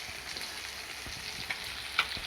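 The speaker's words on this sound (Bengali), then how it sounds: "এই দেখো মাছ ভাজা চলছে" Fish fries in a pan with a steady, close crackling sizzle and a few sharper pops, heard alone without talk.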